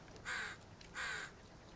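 Two loud, drawn-out crow caws in the survival video game The Forest, each lasting about a quarter second with a short gap between them, over a faint ambient background.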